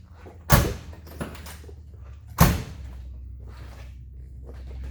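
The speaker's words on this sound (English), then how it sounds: "The doors open and shut very nicely." Two solid car door thuds on a 1972 Pontiac LeMans about two seconds apart, each a sharp close-up slam, with quieter clicks and rustling between them.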